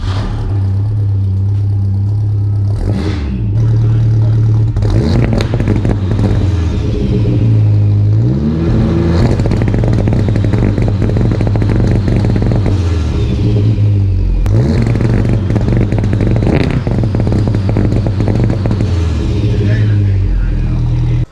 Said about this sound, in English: So that's the 2-step.